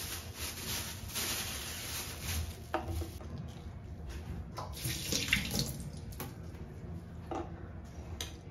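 A kitchen tap runs while fresh coriander is rinsed under it, a quiet continuous splash of water with small shifts as the leaves are moved, no talking.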